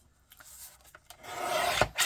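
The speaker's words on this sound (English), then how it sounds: "I am going to trim this off because it came out of the book" A paper trimmer slices through a page taken from a Hawkeye comic book, a quiet rasping, scraping stroke that builds over the final second, preceded by faint light taps, with no talk.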